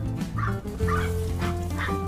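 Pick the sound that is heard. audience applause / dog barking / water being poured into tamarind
dog barking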